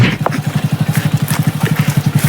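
A motorcycle engine idles close by with a loud, steady run of rapid, even thumps.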